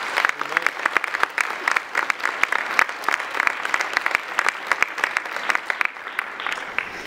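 An audience claps steadily for the Kellogg Foundation during a talk on racial healing, with dense, even applause that carries through to the end.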